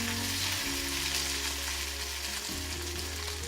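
Onions caramelizing in a pan sizzle and fry steadily for a few seconds, a loud dense crackle with no voices.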